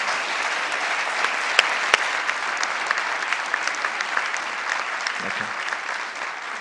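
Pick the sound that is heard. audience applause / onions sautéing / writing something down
audience applause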